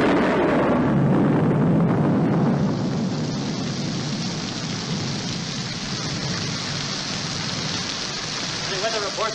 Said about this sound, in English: There's a pretty bad storm out there, Mr. Morgan.